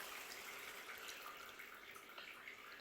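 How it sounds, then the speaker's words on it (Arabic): A glass of water is poured into tomato sauce for shakshuka with eggplant, making a faint, steady splashing trickle that runs without a break for a few seconds. "بعدها نضيف كاس تاع ماء"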